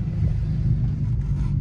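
A BMW E90 car engine idling and rumbling low and steady as the car is reversed, close by, with no talk over it.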